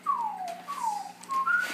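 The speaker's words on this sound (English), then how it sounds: "Listen to that kid whistle." A seven-year-old girl whistles a short tune of sliding, descending notes in three or four phrases, clear and close with no talk.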